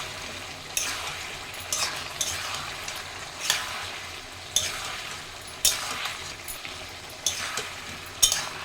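Chillies and turmeric sautéing in a hot pan for a thin rohu fish curry with ridge gourd and potato, a steady sizzle broken by regular scraping stirs, close and alone.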